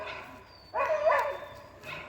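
A hunting dog gives a short burst of barking and yelping outdoors during a boar trial, moderately close and lasting about a second before fading to quiet background.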